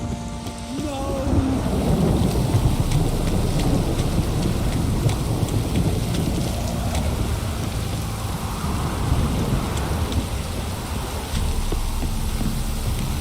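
Steady heavy downpour with rolling rumbles of thunder in a Witcher 3 game scene, a dense continuous wash of rain loud throughout, no voices over it.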